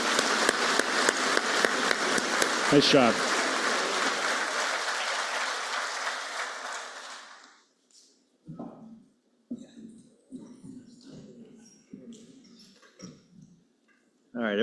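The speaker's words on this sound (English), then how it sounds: "how about a big round of applause?" Loud, sustained applause from a large conference audience for presenters, lasting several seconds and fading out, followed by a few people talking nearby.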